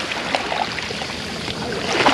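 Waves wash and splash around a small boat on the Adriatic Sea in Kotor Bay, a steady close hiss of moving water with brief slaps against the hull, no voices.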